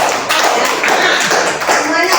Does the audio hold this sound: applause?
yes